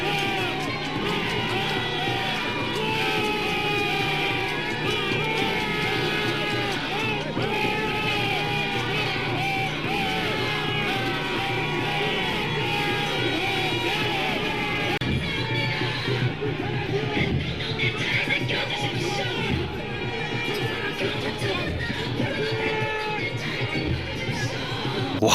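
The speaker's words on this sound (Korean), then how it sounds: "어제 윤석열이 감방에서 나올 때 그 지지자라는 무리들이 모여서 소리 지르는 거 보셨어요?" Crowd of supporters gathered outside as Yoon Suk-yeol left detention, shouting, yelling and chanting in a loud sustained roar with rising and falling bellows, mixed with voices and some rhythmic noise.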